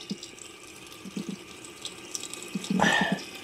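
A bathroom tap runs in a steady, soft stream during a toilet flush test, with a few light knocks and a brief brighter splash near the end.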